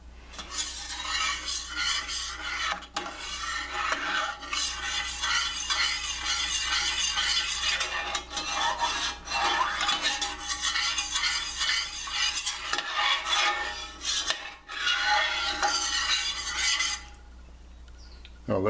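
Pink sauce for sea scallops simmers in a pan with a steady, close sizzle and bubbling. Occasional scraping and stirring sounds come through, and no one talks.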